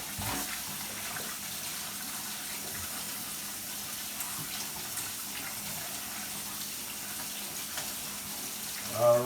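Sea moss is rinsed under running tap water, a steady, soft hiss and splash of flowing water continuing throughout, with a brief louder splash at the end.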